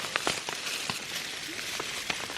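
Rain falling on a wilderness camp, a soft steady patter with scattered sharper drips and taps on a surface, faint and close, with no voices.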